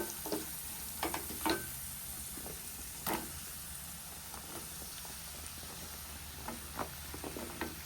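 Capsicum pieces fry in a masala and are stirred with a spoon. A soft, continuous sizzle runs under scattered clicks and scrapes against the pan, fairly faint and close, with no talk.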